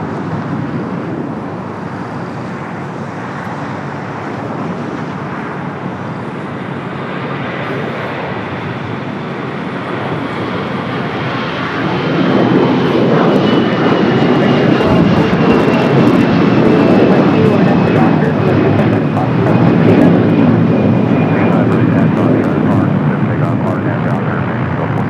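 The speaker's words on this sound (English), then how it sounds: "We got that Air Canada A321 now rolling down at 25 right." An Air Canada Airbus A321 rolls down runway 25 right at LAX, its jet engine roar swelling from a steady distant rumble to a louder, fuller sound partway through, with faint radio chatter underneath.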